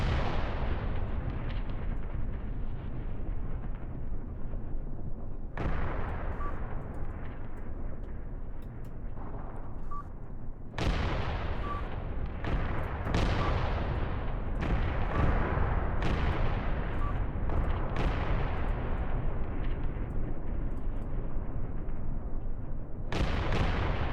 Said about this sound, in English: Lots of early game artillery.